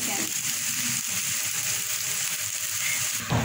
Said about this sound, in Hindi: भिंडी हमारी सारी फ्राई हो गई है